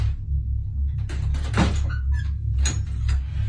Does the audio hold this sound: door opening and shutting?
yes